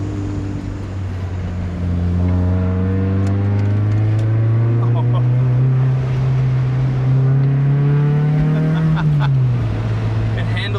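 A Honda CR-X engine pulls hard through the gears from inside the cabin, its tone climbing steadily, then dropping as the revs fall away near the end.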